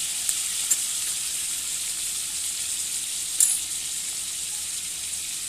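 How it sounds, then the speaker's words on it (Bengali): Goat fat frying in a pan with turmeric, a steady bright sizzle filling the clip, with a couple of faint clinks or taps and no voices. "চর্বিটা ভেজে নিব একটু হালকা করে হলুদ দিয়ে দেবো"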